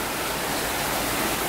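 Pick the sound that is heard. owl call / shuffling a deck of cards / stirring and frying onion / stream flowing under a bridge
stream flowing under a bridge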